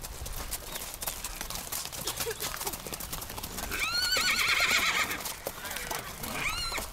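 Horses setting off on a large group trail ride of about 300 riders, with several loud whinnies and neighs rising over a continuous bed of clip-clopping hooves and crowd bustle.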